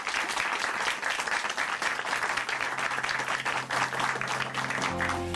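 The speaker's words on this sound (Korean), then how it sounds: "김유석 형제님께 다시 한번 큰 박수 보내드릴게요" A church congregation at a testimony program gives a speaker a round of applause: dense, continuous clapping that stays loud throughout, with a low tone entering toward the end.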